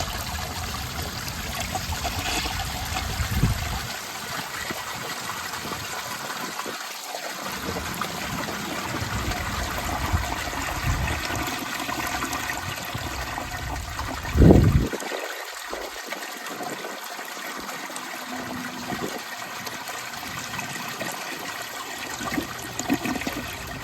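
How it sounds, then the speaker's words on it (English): A 1971 round Kohler Wellworth toilet flushes close by with a strong rushing whoosh, then trickling and gurgling water as the bowl drains, and a louder gulp partway through before the refill continues. "So I'm gonna flush it."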